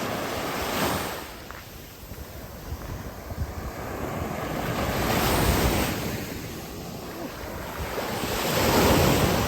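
Ocean waves surge and wash onto Al Ghariya Beach in Qatar, rising and falling in long swells, with steady wind buffeting the microphone throughout.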